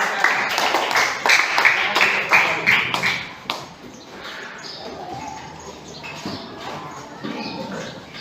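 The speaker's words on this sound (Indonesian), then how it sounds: "tepuk tangan untuk 2 kelompok ini yang telah melakukan" Students in a classroom clap for two groups that have just presented, a burst of close, sharp claps that thins out and fades to scattered room noise and faint voices.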